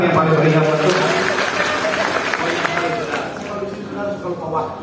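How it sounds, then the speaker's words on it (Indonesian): A church congregation applauding loudly, dense clapping and crowd noise mixed with an amplified preacher's voice and shouts that continue throughout. "Tepuk tangan yang paling meriah buat Tuhan."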